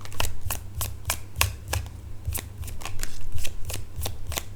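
A tarot card deck is shuffled close up in a quick run of crisp riffling bursts, about a dozen evenly spaced flicks over a low background hum, with no talk.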